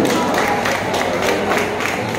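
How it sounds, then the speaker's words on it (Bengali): A crowd claps together at a neighbourhood welcome ceremony, steady dense applause running the whole stretch with a slight pulsing rhythm and a faint murmur of voices. "সবাই একটু করতালি দিন"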